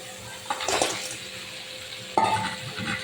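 Fish and potatoes are stirred with spices in a frying pan while cooking a spiced fish-head dish, with two bursts of scraping and clinking from the utensil against the pan over a soft sizzle, and no talking.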